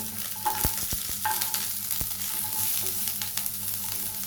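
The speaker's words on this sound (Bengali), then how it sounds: "রসুনগুলোকে আমি হালকা করে ভেজে নেব।" Whole garlic cloves frying lightly in oil in a pan, giving a soft continuous sizzle with a few sharp clicks and scrapes of stirring, close up and quiet, without speech.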